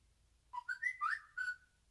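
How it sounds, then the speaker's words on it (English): A series of high, tuneful whistles drifts in short bursts, several rising and falling notes over about a second and a half, moderately loud above a quiet background with no talk. "these whistling sounds are gonna get annoying"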